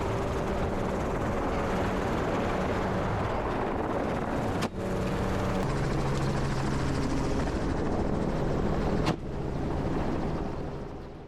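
Helicopter flying low over herds of buffalo in the Australian outback, a loud, steady rotor and engine roar filling the whole stretch with two brief dips, no voices.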